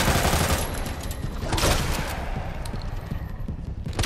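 Rapid gunfire in the Resident Evil 2 video game, a dense burst of repeated shots with sharp transients that thin into a steadier patter of fainter shots, loud and up front.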